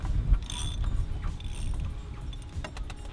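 A 24 mm socket wrench loosens the oil filter cap on a Jeep Grand Cherokee, producing close, low mechanical creaking and ratcheting clicks that are fairly steady, with no talking.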